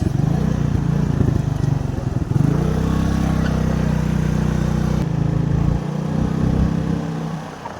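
A motor vehicle is ridden along a road between Roha, Kolad and Murud in the Konkan, its engine droning steadily and loudly with wind buffeting, the pitch shifting as it moves.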